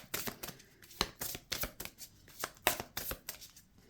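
Tarot cards shuffle and are cut in a steady run of crisp riffling snaps and flicks, close and fairly quiet, with no talking.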